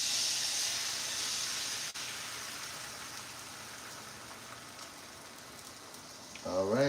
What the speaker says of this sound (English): we got the eggs cooking